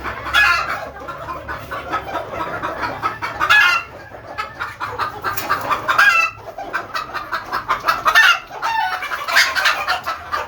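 Gopala chickens cluck close by in repeated loud bursts of squawking calls, separated by brief quieter pauses, with no one talking.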